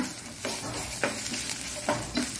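Coriander stems frying in a pan for a horse gram and beetroot sambar, a steady sizzle broken by four rhythmic spoon stirs scraping the pan, close and clear, no voices.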